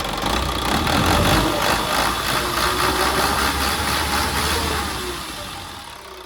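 Isuzu NKR130 truck from 2008 revving its diesel engine, a steady loud mechanical roar held close throughout, easing off slightly near the end.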